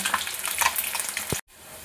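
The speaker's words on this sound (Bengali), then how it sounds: "ডিমের আলুগুলো এপিট ওপিট করে এবারে ভেজে নিচ্ছি।" Potatoes frying in hot mustard oil in a wok, a dense crackling sizzle with a turning clink near the end before the sound cuts out.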